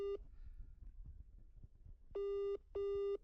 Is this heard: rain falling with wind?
no